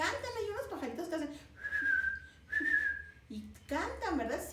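Someone whistles two steady, sustained notes in imitation of a birdsong, each lasting under a second, set between stretches of close speech.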